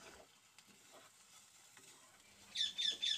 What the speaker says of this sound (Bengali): সেজন্য আমি খুন্তিটা দিয়ে নাড়িয়ে চাড়িয়ে যাচ্ছি।